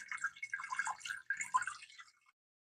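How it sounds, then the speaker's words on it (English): Water poured into an Instant Pot for steaming tamales: about two seconds of close, bubbly splashing and gurgling that stops abruptly, then quiet. "I'm going to add some water just until it reaches that thing I put in here"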